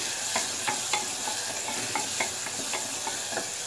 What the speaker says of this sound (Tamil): இப்போ வந்து நம்ம இஞ்சி பூண்டு பேஸ்ட் போட்டுக்கலாம். போட்டுட்டு நல்லா வதக்கி விட்டுக்கலாம்.